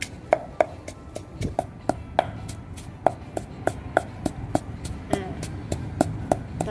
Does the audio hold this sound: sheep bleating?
no